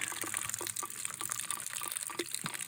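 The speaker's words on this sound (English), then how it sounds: "water comes out of the valve" Water spurts from a freshly opened plumbing valve on a SharkBite-fitted line that was just drained, sputtering and gurgling unevenly as trapped air pushes through with a steady hiss of flow, fairly quiet.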